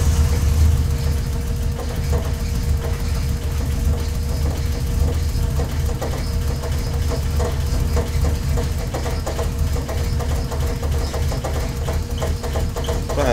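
Toyota Celica TA22 with a swapped 1JZ engine idling a little unevenly, a steady close-up mechanical drone with faint ticking and knocking running continuously throughout.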